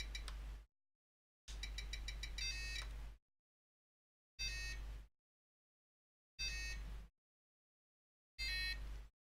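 Electronic low-battery alarm from a Flysky i6 radio transmitter beeping in repeated short bursts separated by silent gaps, each burst a rapid train of high tones over a low hum.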